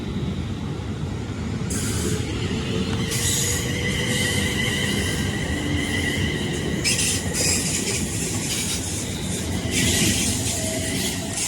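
An electric passenger train, two Class 350 units coupled, runs steadily with a constant low rumble, while bursts of high wheel squeal rise and fade several times over the noise.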